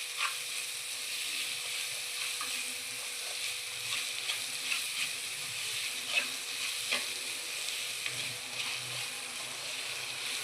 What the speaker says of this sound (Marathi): तो गोल्डन ब्राऊन होईपर्यंत आपण त्यामध्ये परतून घेणार